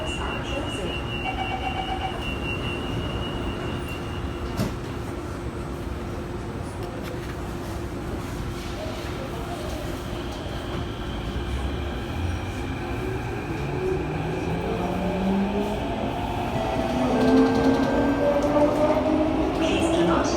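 A KSF CT251 metro train, set 2015, rumbles loudly between stations with heavy, continuous bogie noise and rising wheel and motor whine that builds toward the end, heard from inside the car.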